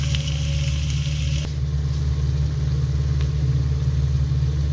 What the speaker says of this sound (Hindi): अब यहाँ पे हम कटी हुई प्याज इसमें शामिल करेंगे।